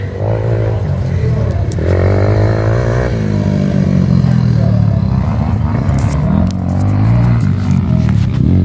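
Motocross motorcycles idle and rev at the starting line of an enduro cross race in Ilocos Sur, a loud, continuous engine roar with shifting pitch and crowd noise mixed in.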